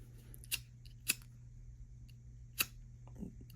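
Scissors snip off a crochet yarn tail on a macramé-style bag, three crisp, close cuts spaced apart over a low steady room hum, no talking.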